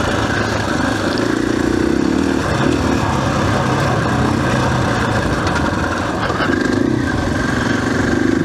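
A 2021 KTM 500 EXC-F dirt bike ridden on a trail, its engine droning steadily up close with some rising revs and wind noise throughout.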